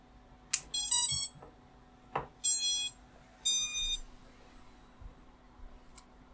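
A drone's electronic speed controller gives a series of electronic startup beeps after being plugged in. Several short tonal chirps are followed by longer sustained tones that come in separate bursts, against a quiet background with faint handling clicks.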